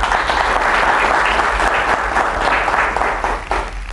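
Studio audience applauding on an Arabic quiz show, a steady dense wash of clapping that stays loud and even from start to finish with no voices over it.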